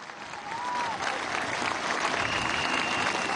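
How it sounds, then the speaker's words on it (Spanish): A crowd at a political march in Venezuela breaks into applause, a dense, loud wash of clapping building within the first half second and continuing steadily, with faint cheers and whistles mixed in. "Un aplauso a Tibisay."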